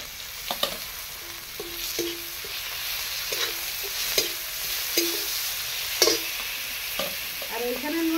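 Ginger and crushed garlic frying in oil in a pan for a Bengali fish-head chechra, close continuous sizzle broken by regular clacking stirs of a spatula, no talking.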